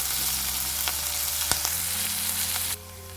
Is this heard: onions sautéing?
yes